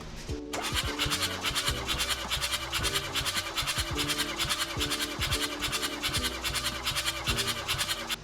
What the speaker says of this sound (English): I'm gonna go ahead and crank it good, and let's see what we got.